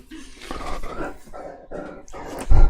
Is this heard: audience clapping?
no